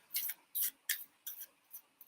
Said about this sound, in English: I'm going to go ahead and just shuffle up the minor arcana